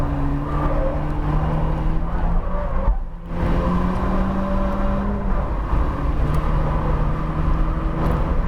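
A 2020 Honda Civic Si lapping a race track, its engine droning loud and steady from inside the cabin with shifting pitch as it pulls, plus a brief dip as the gear changes.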